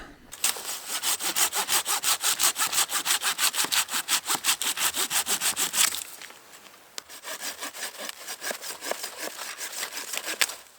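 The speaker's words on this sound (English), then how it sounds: "this is the first time I've gotten to really use this silky Gomboy saw, and man, this thing is a machine." A Silky Gomboy folding hand saw cuts firewood at a campsite. The strokes are fast, rhythmic and close, about two per second for several seconds. After a short pause, the sawing resumes more loosely.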